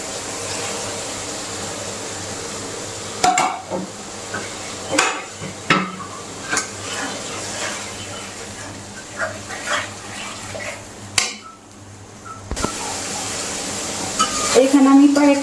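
Water left from washing a grinding stone is poured into a cooking pot of rooster curry, giving splashy, clattering bursts and a few knocks of utensils, close and moderately loud, with a short pause in between.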